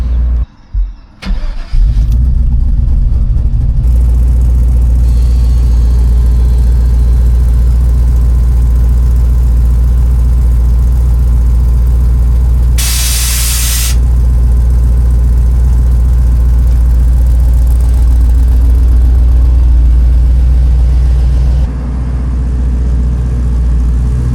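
A 1986 Chevrolet C10 square-body pickup rumbles steadily into a shop, its engine holding a loud, continuous low idle-like drone throughout with a brief higher rush partway and no talking.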